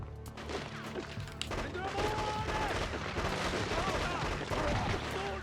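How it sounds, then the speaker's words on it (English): Bursts of rapid gunfire and crashing impacts ring out amid a dense, noisy soundscape in the first-person shooter game Cold Winter, with scattered tonal effects layered over the chaos. "you must have heard the gunfire"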